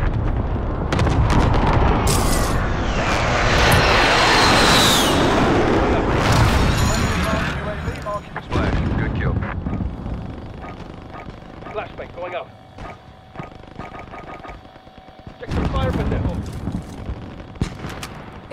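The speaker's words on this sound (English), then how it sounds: "Bringing down an airstrike." Aircraft airstrike in Call of Duty Warzone: a loud, sustained roar of explosions and gunfire at first, then scattered blasts and bangs fading into quieter battlefield noise, with radio-style voices talking throughout.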